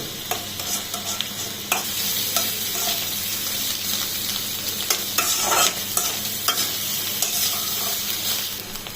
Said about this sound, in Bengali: ডিমটা একটু ভালো করে নেড়ে নিচ্ছি, যাতে চাউমিনের সাথে ভালো করে মিক্স হয়